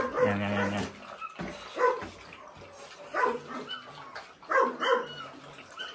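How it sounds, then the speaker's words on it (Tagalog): Six small puppies barking, yipping and whimpering in short irregular bursts, close by and fairly loud, with pauses of quiet between the outbursts. "Dito may 6 na tuta."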